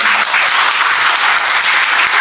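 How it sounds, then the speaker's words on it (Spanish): A church congregation gives a loud, sustained round of applause to God during an evening service, a close, thick wash of clapping from start to finish. "Vamos a darle un fuerte aplauso a Dios."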